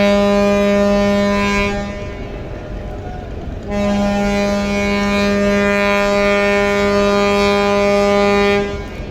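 Passenger launch Shariatpur 1 departing from a riverside ghat on the Khaserhat route, blowing its horn. Two loud, close, long tonal blasts are separated by a short gap, each a steady rich honk.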